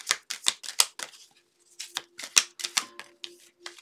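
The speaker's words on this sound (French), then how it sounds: "Je vais chercher une dernière carte pour la première rangée." Tarot cards are handled while one is drawn from the deck, making quick, crisp clicks and riffling snaps in two close bursts separated by a brief pause, with a faint steady hum underneath.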